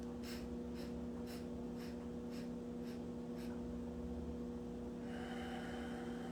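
Deep breathwork, a run of quick, forceful breaths, about eight rhythmic puffs in a steady pulse over a constant low hum, then the breathing stops and only the steady background tone remains.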